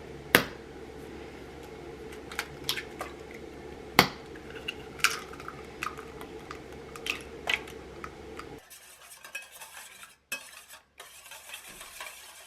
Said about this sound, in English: We're going to break our 2 large eggs.